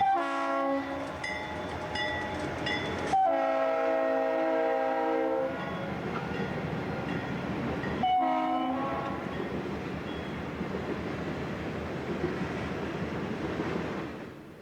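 A southbound Union Pacific hotshot freight train rolls past after waiting at a siding, its horn sounding in long chords near the start and again midway, then the steady roar and rumble of passing cars fills the rest, loud and close.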